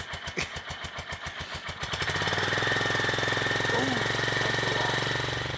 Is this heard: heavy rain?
no